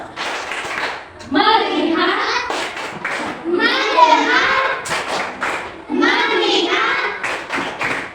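Children in a third-grade class play a clapping game, sharp rhythmic hand claps in short bursts alternating with the children chanting words together.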